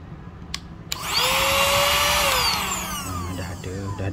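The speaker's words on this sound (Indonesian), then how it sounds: "ni vacuum dia" A battery-powered mini vacuum cleaner switches on after a couple of clicks and runs with a loud, steady high-pitched motor whine that slowly shifts in pitch, heard up close with no talking.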